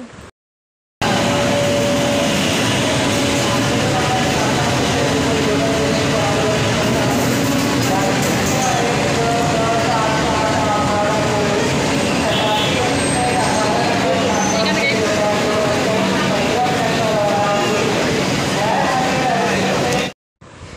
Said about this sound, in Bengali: আমাদের ট্রেন ঢুকে গেছে, দেখতে থাকো ভিডিওটা।